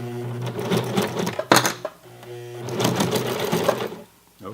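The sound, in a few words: sewing machine stitching over Levi's 550 denim jeans hem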